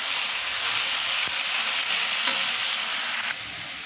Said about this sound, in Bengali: শাকগুলো দিয়ে দেবো, ভালোভাবে 2 মিনিট আরও ভেজে নেব।